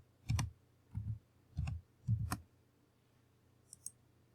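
Computer mouse clicks on a Windows 10 PC, four crisp separate clicks in quick succession, then two faint clicks after a pause, close and quiet in a silent room.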